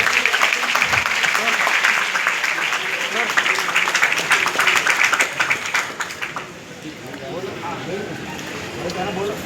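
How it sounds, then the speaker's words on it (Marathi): An audience applauds a drama team after a stage play, with dense, sustained clapping that thins out after about six seconds into softer crowd noise. "या सर्व टीमसाठी जोरदार टाळ्या झाल्या पाहिजेत."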